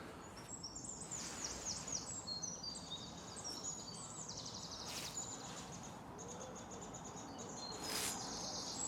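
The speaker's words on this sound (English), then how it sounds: "Lots of birds. I think that might be the parakeets." Chattering, high-pitched calls of parakeets overlapping in the distance at Backhouse Park in Sunderland, over a low, steady background hum of ambient noise.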